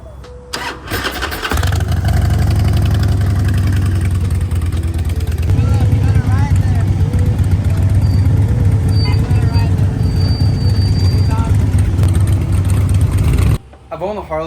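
A Harley motorcycle engine cranks briefly, catches on a not-quite-cold start and settles into a loud, throbbing idle heard up close for over ten seconds before cutting off abruptly.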